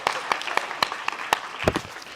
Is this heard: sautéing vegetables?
no